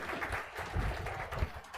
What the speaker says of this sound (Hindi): 2-3 वाला सबके लिए सिर्फ ताली बजा दीजिए